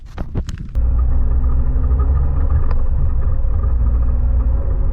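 A 2020 Jeep Wrangler Rubicon in four-wheel high rolls over bumpy off-road ground, a steady loud engine and drivetrain rumble taking over after a few brief knocks and clatters at the start.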